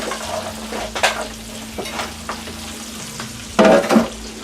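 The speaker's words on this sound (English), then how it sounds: "we're going to let the onions sweat for a minute or two." Diced sweet onions sweating with bacon in a pan give a soft, continuous sizzle, broken by occasional utensil scrapes and a louder clatter near the end.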